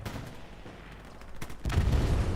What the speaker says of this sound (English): Satchel goes off, artillery